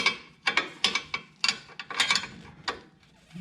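A wrench ratchets in short, clicking bursts while loosening a bolt on the rear A-arm of a Honda Pioneer 1000-5 side-by-side, with close, uneven clusters of metallic ticks and brief pauses between strokes.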